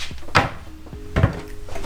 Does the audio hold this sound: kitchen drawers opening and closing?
yes